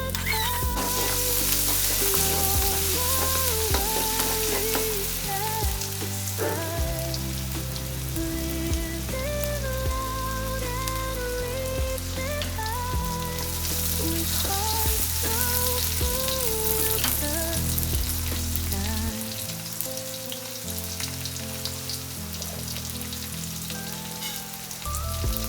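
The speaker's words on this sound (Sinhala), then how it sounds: "රත් තෙල් ටික රත් වෙගෙන එනකොට දාන්න ඕනේ එකට ඉඟුරු, සුදු ලූණු ටිකක් දාලා හොඳට ටෙම්පරාදු වෙන්න තියන්න." Ginger and garlic fry in hot oil for chicken kottu, giving a steady, dense sizzle beneath prominent background music.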